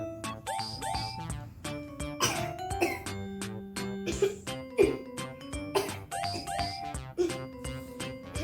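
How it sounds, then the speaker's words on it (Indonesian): A man coughs repeatedly after eating too many sweets: a dense run of sharp, close coughs and throat-clearing bursts in an uneven rhythm throughout, with no speech. "Kok batuk, Mas?"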